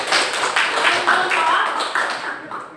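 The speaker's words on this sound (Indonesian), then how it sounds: "Ya, kasih aplaus." A classroom group claps for presenting classmates, a short burst of applause from many hands, with a voice talking over it.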